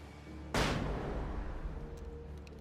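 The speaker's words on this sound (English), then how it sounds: "Throw a flashbang." A flashbang grenade goes off in Alan Wake: one sharp, sudden bang followed by a fading rumble, heard alone at moderate loudness.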